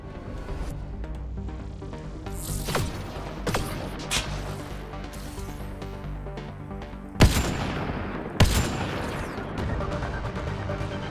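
Gunfire from a new weapon in the Mass Effect Andromeda video game, sustained bursts of rapid shots under busy combat noise, punctuated by two loud, sharp blasts late on, with no talking.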